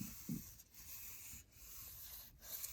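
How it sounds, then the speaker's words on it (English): Sandpaper rubbed by hand across a Peavey Nitro amplifier during restoration, a quiet, soft rasping scrape running steadily through the moment with a few slightly louder strokes near the start. "to just let the sandpaper do its thing"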